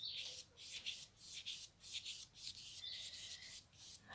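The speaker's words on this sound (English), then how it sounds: "I hope I rubbed hard enough" Crayon or pencil rubbed back and forth over paper laid on a leaf for a craft leaf rubbing, a soft close scratchy rasp repeating in quick strokes at an even rhythm.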